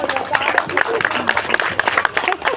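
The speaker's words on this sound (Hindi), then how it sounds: "आशीर्वाद का मतलब होता है जोरदार तालियां" At a Hindu devotional gathering, a crowd claps in quick repeated bursts as a blessing, while voices talk loudly over the clapping.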